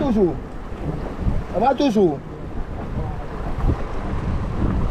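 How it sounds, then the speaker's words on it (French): Strong wind buffets the microphone with a constant low roar, and a person's voice briefly cuts through partway in. "c'est délicat, il y a trop de vent"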